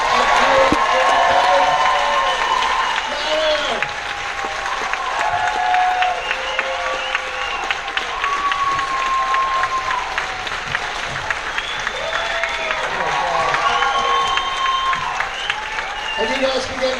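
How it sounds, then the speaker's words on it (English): A theater audience applauds and cheers for a cast in a long, dense wash of clapping, with whoops and shouted voices rising above it throughout. "let's get a huge round of applause for the cast of"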